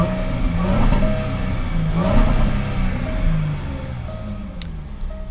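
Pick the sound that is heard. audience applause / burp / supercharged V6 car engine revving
supercharged V6 car engine revving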